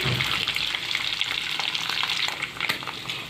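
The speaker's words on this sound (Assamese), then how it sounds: "মোৰ গাহৰি মাংসটো অলপ সময়লৈকে ভজাৰ পিছত এনেকৈ অকণমান ৰঙা হোৱা যেন হৈছে। এনেদৰে আৰু অকণমান দেৰি ভাজি লওঁ" Pork meat frying in a pan, reddening as it cooks, gives off a loud, continuous sizzle with occasional stirring scrapes and spatters, close up and without talk.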